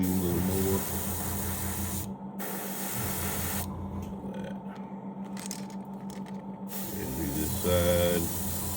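An airbrush sprays paint onto a 5-inch Super Spook fishing lure, making a steady close hiss, with a compressor hum underneath and brief breaks in the spray.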